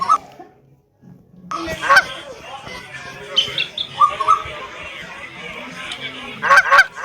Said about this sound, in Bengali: ভাই সামনে একটা হাঁস ভাই তোমরা দেখতে পাচ্ছ